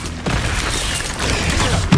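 Incendio fire spell in Hogwarts Legacy, a loud roaring whoosh of flame with crackling bursts, starting abruptly and sustained over the short combat moment.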